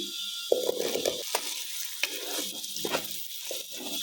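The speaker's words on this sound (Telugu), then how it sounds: "ములక్కాయలు ఒక 5 నిమిషాలు ఫ్రై చేద్దామండి ఆయిల్లో" Cut drumsticks frying in oil with crushed garlic and curry leaves for an egg curry, a steady close sizzle with intermittent stirring scrapes and clinks throughout.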